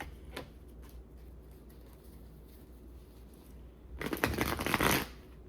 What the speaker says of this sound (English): I'm just gonna shuffle this deck.